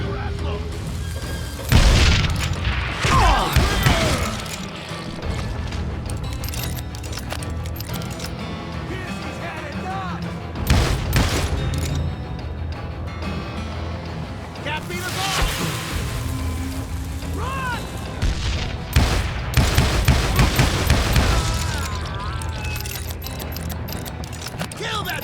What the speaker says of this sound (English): a fusillade of bullets come raining down from on high